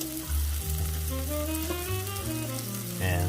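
Morel mushrooms frying in butter over medium heat, a close, steady sizzle that holds evenly for a few seconds with a faint tonal hum underneath and no talking.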